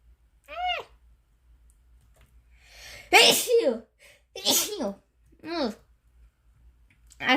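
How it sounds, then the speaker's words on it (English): A single sneeze in a game session, a sharp burst set among several short voiced cries or squeaks nearby, with low background hum between. "I sneezed today, and it was a very sus sneeze."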